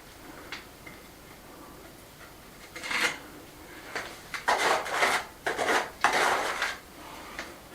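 Mortar being mixed by hand for rebuilding a chimney, heard as irregular bursts of gritty scraping and clinking that grow busier and louder in the second half, with no talking.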